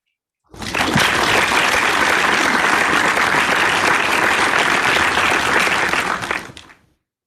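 Sustained audience applause at a Toastmasters club milestone meeting, a dense steady wash of many hands clapping for about six seconds, rising quickly and fading out at the end with no talk over it.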